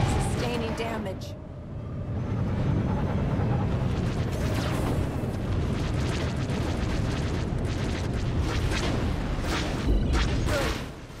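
A destroyed starship explodes in a Star Wars: The Old Republic space battle at Star Forge Shipyards, a dense, continuous roar of blasts and rumbling that holds loud and steady throughout, with layered crackling bursts.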